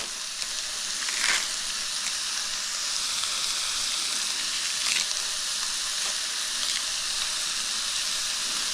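Kale in olive oil crackles and sizzles in a hot pan as a steady, moderately loud hiss with a few sharper spattering bursts, no speech.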